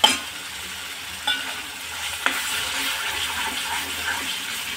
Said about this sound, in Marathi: हे भाजलेलं बेसन पीठ टाकते।